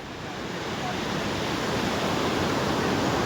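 Sea waves break on a beach as a steady, loud, broadband roar of surf that swells slightly and holds without pause, with no voices over it.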